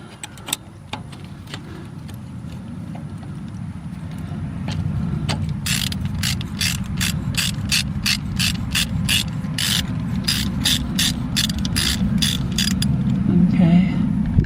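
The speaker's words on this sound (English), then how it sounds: "now we got to bolt this to the block" Ratchet tightening 10 mm bolts holding an injector pump to the block of a Cummins diesel engine on a Case 580, with a long run of quick, evenly spaced clicks over a steady low background hum.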